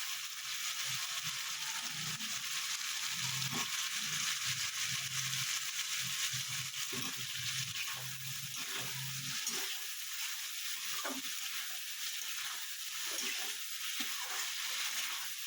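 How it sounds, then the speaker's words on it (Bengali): New potatoes frying in a pan, a continuous sizzle with repeated scraping and stirring knocks, close by, no one talking. "বেশ আলু দিয়ে ভালো করে একটু কষে নেবেন"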